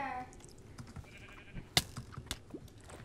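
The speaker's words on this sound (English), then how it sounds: "Another pink sheep." A pink sheep in a Minecraft UHC match gives a wavering bleat at the start, followed by scattered game clicks and hits.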